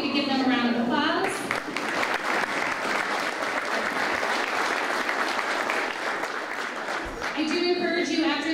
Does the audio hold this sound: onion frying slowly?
no